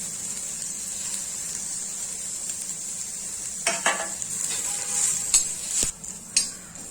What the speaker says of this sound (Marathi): आता मी ह्यामध्ये आलं, लसूण आणि सुकं खोबरं हे घालून चांगलं परतून घेणार आहे